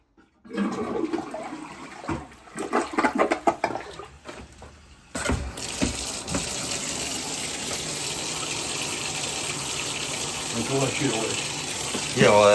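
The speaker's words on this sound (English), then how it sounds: "Go ahead, flush it." A toilet is flushed during a plumbing call, a loud rushing gush of water that starts abruptly partway through and keeps draining steadily to the end, after some brief talk and handling noises at the start.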